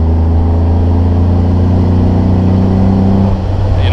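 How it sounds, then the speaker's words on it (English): Jeep Wrangler JK on 40-inch tires revving after a downshift on a small street, a loud, steady engine drone heard from inside the cab. "if we downshift and give it gas"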